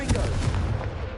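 Blasting fire spell in a Harry Potter wizard game going off in a dense, rumbling burst of booms, loud and close, filling the whole moment with little space between impacts.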